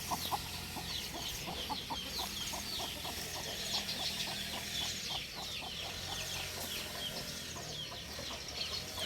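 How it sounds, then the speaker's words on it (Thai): Fighting-rooster breed hens cluck with their chicks in a nursery pen, a quick run of soft rhythmic clucks close by, high chick peeps scattered over them and light farmyard background noise. "ในนี้ก็จะมีแม่ไก่แล้วก็จะมีลูกไก่ที่อนุบาลในนี้นะครับ"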